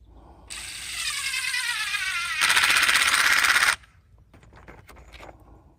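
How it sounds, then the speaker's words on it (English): A cordless impact driver sinks a 1-5/8 inch deck screw into a wooden gate frame: a whirring run that steps up into loud rapid hammering rattle, then stops, leaving faint clicks and handling noise. "We're gonna go ahead on with our impact driver and take some fucking inch 5/8 screws, decker screws, and put 4 in each corner"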